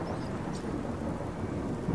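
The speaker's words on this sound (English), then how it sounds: "at least it's a normal storm, it's not a rad storm" A thunderstorm in the video game Fallout 4: steady rain and a low rumbling thunder roll fill the scene evenly, with no talk over it.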